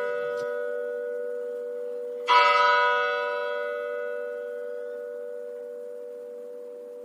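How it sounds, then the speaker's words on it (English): A church bell in southern Germany rings with a steady sustained tone, then one loud strike blooms and slowly decays into a long humming ring, with no voices. "it always started with two strikes of the bell, because it's 11:30, and then you hear that sound"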